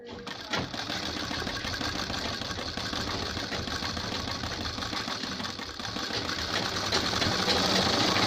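A sewing machine runs steadily through a full pass while stitching a ladies' kurta, its dense mechanical whir holding a constant level from start to finish with no voice over it.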